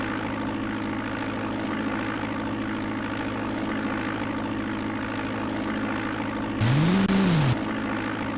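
A propeller airplane engine on takeoff in the DOS game Flight Simulator 5.1 gives a steady, loud droning hum, with a brief rising-and-falling tone and a burst of noise near the end.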